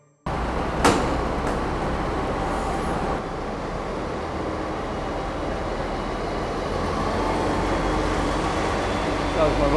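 Passing vehicle, a bus or train, rumbling loudly nearby with a broad steady roar that holds throughout, with brief clanks near the start.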